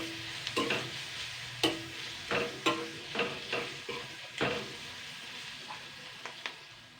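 Drumstick leaves frying in a pan with coriander powder, stirred by hand: a low sizzle under a series of distinct scraping strokes and clinks from a spatula, spaced roughly every half second to second, close and fairly quiet.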